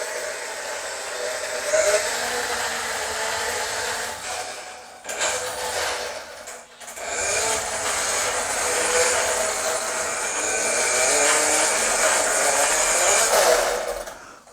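An Eclipse Rover's electric drive motor crawls slowly under trigger speed control, making a whirring, hissy hum that shifts in intensity, cuts out briefly around five and seven seconds, then resumes steadily.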